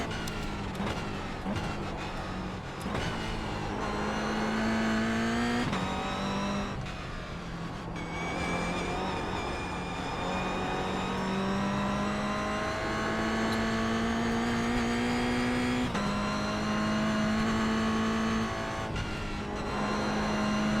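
A Mazda MX-5 race car circles the Oulton Park track, its engine droning loud and close with steady harmonic tones that rise and fall through gear changes and brief lifts, a continuous in-car roar with no pauses.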